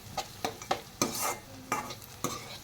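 Poha being stirred and mixed in a pan after lemon juice is squeezed in, a series of soft spoon scrapes and taps at an uneven rhythm over a faint sizzle, close by.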